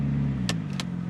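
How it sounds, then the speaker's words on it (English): A 1954 International farm truck engine idles and revs in a low, steady rumble, with a few brief sharp hissing bursts on top, heard close and without talk. "Will it do a burnout?"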